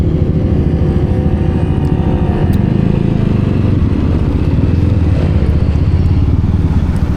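A motorcycle engine idles loudly and steadily up close, a constant rumbling drone with slight rattling throughout.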